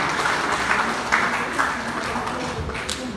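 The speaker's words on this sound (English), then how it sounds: "A round of applause for Christ Jesus." Congregation applauding during a church wedding service, a fairly loud, continuous wash of clapping with occasional sharper claps and faint voices mixed in.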